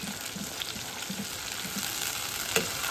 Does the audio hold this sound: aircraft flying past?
no